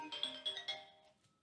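A mobile phone ringtone chimes in a few bright, repeating tonal bursts, fairly quiet and fading out within a second and a half, with no talk over it.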